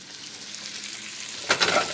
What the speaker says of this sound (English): as soon as that oil gets nice and hot, which it is, take the meat and just drop it right in the pan